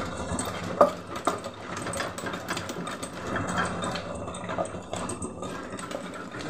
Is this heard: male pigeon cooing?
no